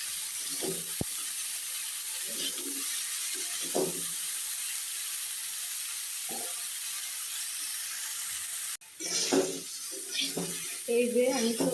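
Potatoes, taro and cauliflower sauté for a fish curry with a steady, soft sizzling hiss in the pan, and a voice talks intermittently over it.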